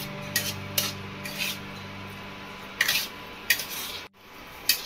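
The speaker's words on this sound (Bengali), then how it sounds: "ভালো করে এটা আমি এখন নেড়ে নেব।" Chhana (cottage cheese) is stirred in a pan for kalakand: scattered scraping and rubbing strokes of a spoon against the pan, with short bursts separated by pauses and one brief silent gap. No voices.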